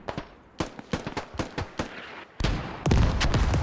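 Mortar fire in the tactical shooter Squad, a series of sharp booming blasts at irregular intervals, some distant and some closer, ending in a louder sustained rumble of explosions.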